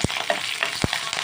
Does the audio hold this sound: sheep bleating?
no